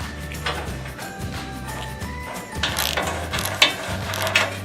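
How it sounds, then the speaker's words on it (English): A ratchet wrench tightens grade 5 bolts on a truck cross beam, making a run of close, quick clicking strokes with faint metallic knocks. No one speaks. "These are only a grade 5 bolt, so we don't want to over tighten them."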